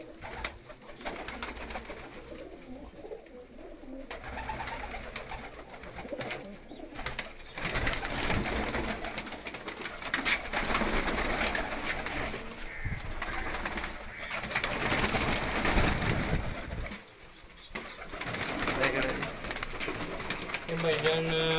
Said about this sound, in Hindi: ये भाईजान रामपुरी कबूतर है।